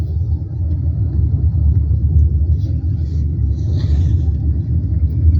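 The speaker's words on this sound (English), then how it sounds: "we are currently driving through the winter storm at this time" A car drives through a winter storm, giving a steady, loud low rumble of road and engine noise that continues throughout with no break and no voices.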